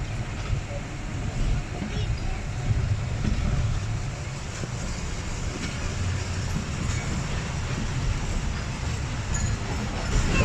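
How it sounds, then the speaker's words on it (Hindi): Thall Express passenger train pulling out of Jammat railway station in Pakistan, a steady low rumble of rolling cars that holds at an even level throughout, with faint voices underneath. "थल एक्सप्रेस जम्मट रेलवे स्टेशन से रवाना हो रही है"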